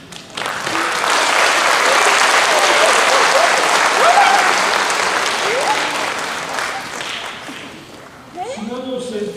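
Loud audience applause fills a graduation ceremony hall, a dense sustained wash of clapping that slowly thins toward the end before a voice briefly speaks over the fading hands.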